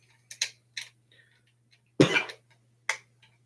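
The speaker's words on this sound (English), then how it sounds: "Sorry about the coughing, by the way," A few short, sharp coughs and throat noises scattered over a quiet background, with one stronger cough in the middle, close to the microphone.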